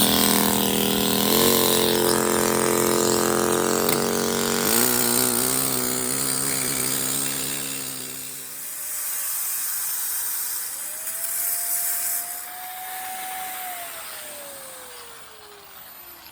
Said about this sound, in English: When you're using these diamond saws, you can't force them.